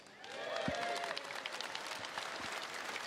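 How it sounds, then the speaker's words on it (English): A convention audience at CitizenCon claps steadily after a brief swell, moderately loud, with a few whoops and voices mixed into the applause. "let's give Sam a round of applause, please"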